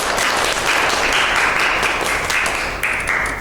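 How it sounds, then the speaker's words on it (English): Classroom students applauding in a dense, loud burst of clapping that holds steady for a few seconds and then begins to thin out. "Give applause."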